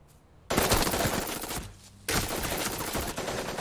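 Automatic gunfire in Super Mecha Champions, a mobile battle royale game: two loud sustained bursts of rapid shots, the second starting after a brief pause, with no talk.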